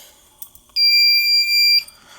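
One sharp, high-pitched fire alarm beep lasting about a second rings out between quiet moments with faint background noise.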